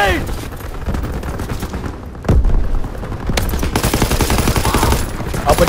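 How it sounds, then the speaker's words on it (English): Heavy gunfire in the Call of Duty WW2 video game: dense, continuous bursts of rifle and machine-gun shots at close range, loud throughout, with a sharp boom about midway and faint voices mixed under the barrage. "Open fire, open fire!"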